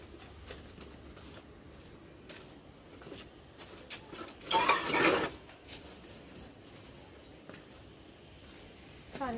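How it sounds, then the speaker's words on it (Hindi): Dirty dishes, pots and pans clatter and clink as they are picked up and set down before washing, with one louder rattling burst in the middle amid scattered handling knocks. "अभी मैं ये बर्तन धोने वाली हूँ।"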